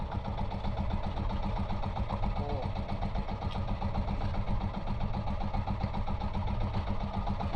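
A boat engine drones steadily on the ride home after a dive, a loud continuous low rumble with rhythmic pulsing that stays even for the whole stretch, with no talk over it.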